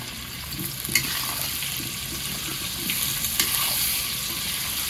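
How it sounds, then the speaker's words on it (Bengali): Potatoes seasoned with salt and turmeric fry in hot oil, a constant close sizzle broken by a few sharp stirring clinks and scrapes, with nobody speaking. "তেলটা আমার গরম হয়ে গেছে। বন্ধুরা আলুটা একটু সামান্য একটু লবণ দেবো, আর দিয়ে দেবো একটু হলুদ গুঁড়ো"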